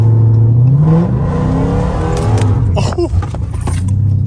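A catless Dodge Charger SRT revs hard while sliding around corners, the engine note climbing and rising in loud sweeps, then roaring with tire and exhaust bursts up close as someone talks over it.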